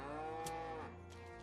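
Cattle in the Farming Simulator 25 video game moo loudly and close in one sustained, drawn-out bellow lasting over a second, with no voices over it.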